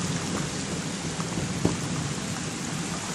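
Thunderstorm with heavy rain and hail: a dense, steady hiss of falling rain and hail with a faint distant rumble of thunder underneath.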